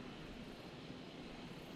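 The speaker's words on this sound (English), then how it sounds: "They're curious about the helicopter, which is quite interesting." A helicopter in a video game gives off a faint, steady, low engine drone that holds evenly throughout the short stretch and has no talking over it.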